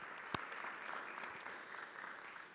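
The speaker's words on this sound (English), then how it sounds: "I want to give a big round of applause for the women who are on the council" Applause at a city council meeting, a soft, distant patter of clapping from the chamber that lasts a couple of seconds.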